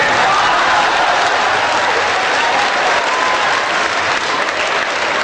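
Sustained applause from an audience at a Hindi comedy poetry gathering (hasya kavi sammelan), loud and steady throughout with dense clapping and no pauses.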